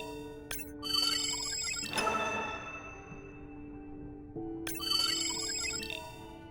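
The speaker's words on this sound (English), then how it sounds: "Hey, Andre, those reef sharks like your ringtone." A melodic electronic phone ringtone plays in two bursts separated by a pause, with bright chiming tones and a short ringing tail, from the video game Beyond Blue.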